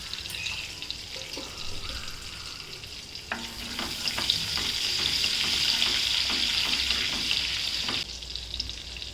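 Cumin and mustard seeds sizzle in hot oil, with a steady bright frying hiss and scattered crackles and pops that grow denser partway through.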